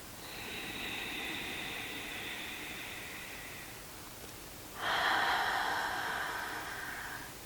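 Two long, deep breaths leave through the mouth during a grounding yoga session, a soft airy exhale followed after a brief pause by a stronger, louder one, close and alone.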